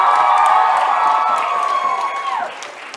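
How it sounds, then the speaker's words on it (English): A live crowd cheers, whoops and applauds after a performance at a community launch event. It is loud and continuous, with voices rising in a sustained cheer that trails off near the end. "Can we give him one more round of applause?"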